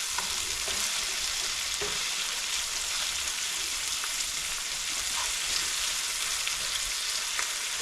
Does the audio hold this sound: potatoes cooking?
yes